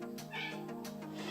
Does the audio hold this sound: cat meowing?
yes